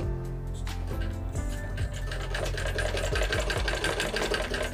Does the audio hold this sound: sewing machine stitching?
yes